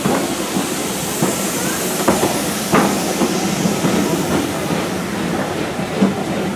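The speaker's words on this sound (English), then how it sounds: "Well, this is a steam railway after all." Steam train on the Kent and East Sussex Railway, a steady rolling rumble with periodic wheel clicks and faint hiss, heard from on board, continuous and fairly loud.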